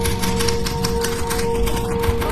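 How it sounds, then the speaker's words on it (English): Typewriter clatter in a horror video game, a fast, even run of mechanical key strikes over a dense bed of steady hum and game noise, loud and continuous without speech. "Turn on the typewriter."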